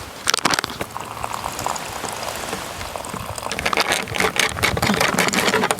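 Water bubbling and boiling in a small pot over a solid-fuel stove at a beachside camp, a dense crackling simmer that grows busier and louder toward the end; no voices.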